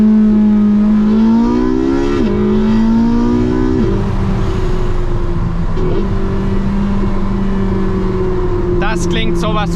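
Porsche 918 Spyder engine revving loudly and accelerating away from traffic lights, its rising whine climbing in steps through gear changes, close and dominant, with excited talk over it.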